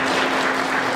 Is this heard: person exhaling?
no